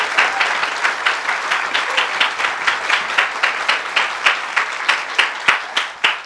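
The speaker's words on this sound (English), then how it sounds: "Give them one last round of applause while they clean up." Steady applause from a school Christmas concert audience, many hands clapping in a dense, rhythmic patter that continues throughout without any talk.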